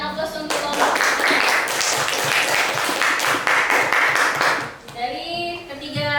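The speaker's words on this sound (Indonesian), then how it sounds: "berikan aplaus untuk kelompok" A classroom of students applauds a student group after its presentation in a junior high math lesson, steady dense clapping for about four seconds that fades out as a teacher's voice takes over.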